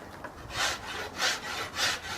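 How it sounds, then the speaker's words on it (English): A rasp scrapes wood off a bow limb during tillering, three slow, even strokes, each a close, coarse rub, with short pauses between and no talk. "What I'm doing is I'm slowly rasping the wood, and at the same time I'm also counting how many strokes I do with the rasp."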